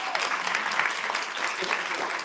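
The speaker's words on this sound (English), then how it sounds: "clap it up for our amazing panelists" Audience applause for the panelists at the close of a summit panel session, a steady roomful of clapping that fills the whole stretch at even loudness.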